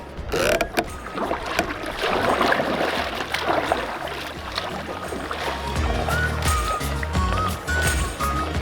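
A kayak is paddled forward on open water, with steady blade strokes splashing and dripping up close and a continuous wash of moving water throughout.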